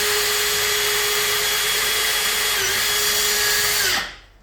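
A power drill bores steadily through metal with oil on the bit, a loud continuous whine with a steady pitch that holds for about four seconds, then spins down and stops.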